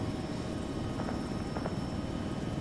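A helicopter drones steadily in Arma 3, a continuous broadband rotor and engine roar at moderate level throughout, with faint chirps over it and no talk.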